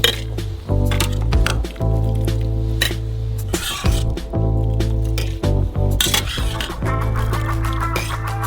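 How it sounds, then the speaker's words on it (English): Chili pepper marinade is poured into a glass jar, with a busy run of clinks, knocks and liquid squishes over a steady low hum that goes on for several seconds. "You can pour it into the jar."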